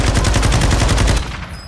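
Rapid automatic gunfire in a video game rattles loud and close as a fast burst, then cuts off, leaving a quieter tail.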